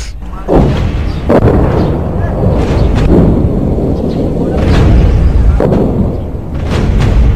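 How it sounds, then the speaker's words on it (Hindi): Cross-border gunfire from Pakistan, heavy distant booms and rolling blasts over a loud, rumbling wash of noise, with several stronger thuds spaced a few seconds apart. "रविवार सुबह से ही बिना किसी वजह के सीमा पार से पाकिस्तान ताबड़तोड़ गोलीबारी कर रहा"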